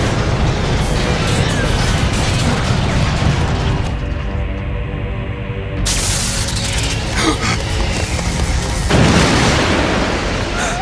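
A cartoon cannon fires with loud, dense booming blasts and crashing noise, a brief lull in the middle, then another burst of explosive rumble.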